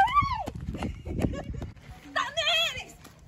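A horse's hooves clip-clop in a few sharp knocks beneath loud, excited voices that talk and shout over the footsteps.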